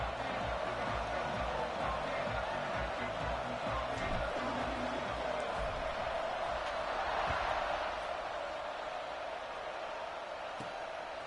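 Stadium crowd in the NCAA College Football 26 video game, a dense, steady roar of many voices filling the whole stretch, loud and continuous, with a few faint thuds underneath.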